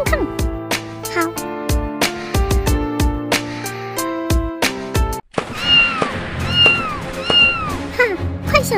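An animated cartoon kitten meows several times in a plaintive, high run of cries, following a stretch of plinking piano-like music with soft thuds, all fairly loud and close.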